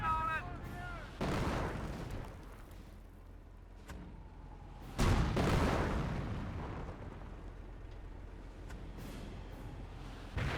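Gunfire and booming artillery in the strategy game Company of Heroes, two heavy explosive blasts roughly five seconds apart with rolling rumble and scattered shots in between, loud and close, over brief battle effects.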